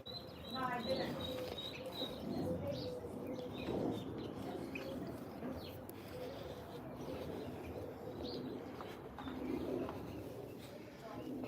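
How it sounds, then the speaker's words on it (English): Doves coo softly outdoors in a repeated low rhythm, mixed with scattered chirps and steady background ambience. "you notice them doves chased all the pigeons away?"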